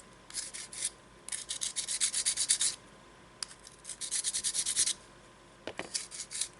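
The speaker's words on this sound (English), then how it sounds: "I will start by first of all using sandpaper to" Sandpaper rubbed over dried handmade clay jewelry pieces, quick rhythmic bursts of dry scratchy strokes in several runs with brief pauses, close and fairly quiet, no talking.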